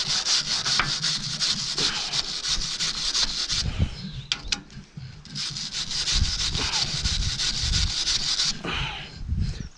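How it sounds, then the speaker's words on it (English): Wire brush scrubbing old silicone off an International tractor cab, steady raspy back-and-forth rubbing strokes close up, with a brief pause midway. "the wire brush seems to take it off quite nicely, which is good"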